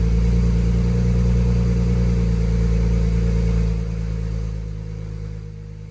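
A BMW 335i engine idling just after starting, a loud close steady hum with low rumble that eases slightly toward the end, no talking.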